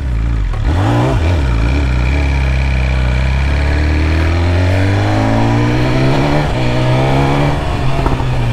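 A 2022 BMW S 1000 RR motorcycle with a stainless steel 304 header and kick shifter revs hard and continuously, its loud engine pitch climbing steadily through the clip with no talking.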